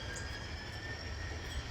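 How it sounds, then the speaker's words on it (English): Freight train in a railroad simulator game, working a yard interchange, with a steady low rumble of rolling cars and faint high squeal, continuous and fairly quiet, no voices. "So this is the third of the 4 trains that I'm simulating that are delivering cars to the Chillicothe yard and picking up outbound cars."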